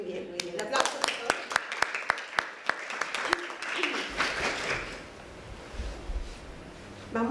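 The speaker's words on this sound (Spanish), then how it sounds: "Aplausos." Audience applause at a women-in-communications dialogue event: a brief burst of sharp, separate claps for about three seconds, then a softer rustling wash of clapping that tapers away, with no voice over it.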